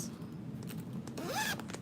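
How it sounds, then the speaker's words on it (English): A zipper runs along a zippered pocket on a handmade fabric bag, with soft fabric handling at first and then a quick rising zip pull close to the microphone near the end. "zipping up that pocket."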